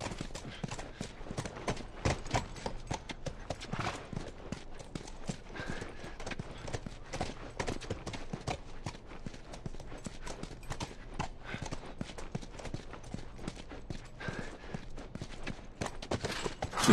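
Steady hoof clip-clops of a horse at a brisk walk in the video game The Last of Us, dense and rhythmic throughout, with faint ambient noise behind.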